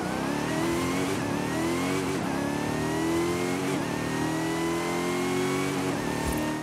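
A Dodge Durango SRT Hellcat SUV engine revs loudly and continuously in the racing game Forza Horizon 5, pitch sweeping up and down through gear changes, with a steady mid-range roar throughout.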